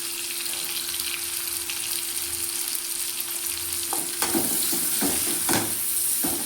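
Mango pieces and sambar masala sauté and sizzle in a hot pan for a sambar, with a steady frying hiss and a few louder stirring scrapes toward the end, no talking.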